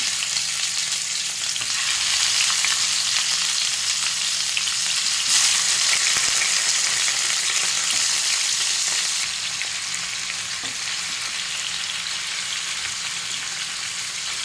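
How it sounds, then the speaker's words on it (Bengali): Steady, dense sizzling of chicken pieces frying in hot oil, loud and close, swelling slightly in the middle before settling, with no voices. "একটা একটা করে চিকেন এবারে ভেজে নেব।"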